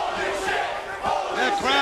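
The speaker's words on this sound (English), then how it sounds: "The crowd telling you what they think of everything." Wrestling crowd at a Hard Justice 2006 pay-per-view arena event, shouting and chanting in a loud, continuous roar that swells toward the end, with no one speaking over it.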